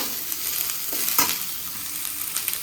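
Onions fried for chitranna sizzle steadily in hot oil at close range, with a couple of brief stirring scrapes and no talking.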